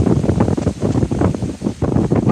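Strong outdoor wind gusts roar and buffet the microphone in loud surging waves, with no voices.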